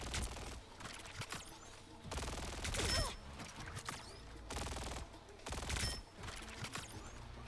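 Bursts of rapid automatic fire from a hero shooting two weapons at once in the game Marvel Rivals, several sustained volleys separated by short gaps, mixed with game effects and no talking.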